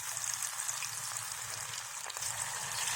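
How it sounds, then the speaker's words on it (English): Shepu bhaji balls fry slowly in hot oil over a low flame, giving a steady, even hiss and bubbling that stays close and moderately loud from start to finish, with no voices. "let it fry slowly"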